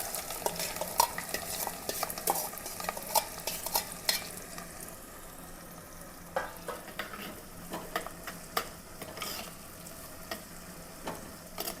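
Three finely chopped onions frying in hot oil in a deep clay pot for beef vindaloo, a steady sizzle broken by irregular scraping and clinking stirs, close and moderately loud, with no talk.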